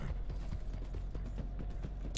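Horse hooves clop in a steady walking rhythm in the Red Dead Online video game, soft repeated thuds over a low constant background rumble.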